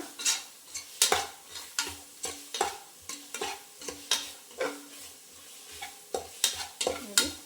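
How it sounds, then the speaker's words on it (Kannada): Peas being stirred into fully fried onions in hot oil, a spoon scraping the pan in a steady run of sharp, close strokes over a soft sizzle, with no talking. "ಇವಾಗ ಬಟಾಣಿ ಕೂಡ ಹಾಕ್ಕೊಂಡು ಅದು ಹಸಿ ವಾಸನೆ ಹೋಗೋವರೆಗೂ ಚೆನ್ನಾಗಿ ಒಂದು ಮಿಕ್ಸ್ ಕೊಡೋಣ."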